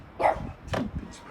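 A dog gives two or three short, close barks and yips in quick succession, with a person's voice mixed in among them.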